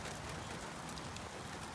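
Steady rain falls on rhododendrons and other plants outdoors, a dense, even patter with no talk.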